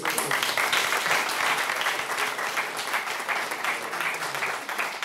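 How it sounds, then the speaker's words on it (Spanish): Sustained applause from an audience, steady and fairly loud throughout, with no pauses. "para los ponentes yo creo que un aplauso que se lo han merecido"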